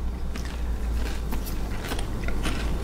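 Someone bites into a small wheat-thin-style cracker topped with vegan chicken salad made from soy curls, giving a steady run of close, crisp crunching and chewing with scattered sharp cracks.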